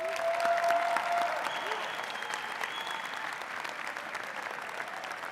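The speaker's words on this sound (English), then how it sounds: "One more round of applause for these 3." At a college commencement ceremony, an audience gives a sustained round of applause that starts strong and then settles into steady clapping, with a few faint voices within it.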